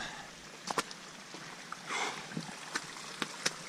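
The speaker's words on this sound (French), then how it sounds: "ça doit être la pluie de ce matin qui coule en petite cascade." Rainwater runs down a small cascade on a mountain trail, a soft, steady rushing hiss heard fairly close. A few sharp clicks and taps are scattered over it, and no one speaks.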